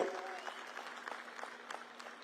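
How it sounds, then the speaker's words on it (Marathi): A crowd at an outdoor political rally in Jat, Sangli, claps to welcome Union Minister Nitin Gadkari, sustained applause that is fairly distant and continuous with scattered sharper claps. "एकदा जोरात टाळ्या वाजून आपण नितीनजीचं स्वागत करूया"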